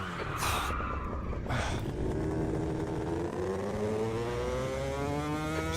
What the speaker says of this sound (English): The engine's sounding absolutely terrible.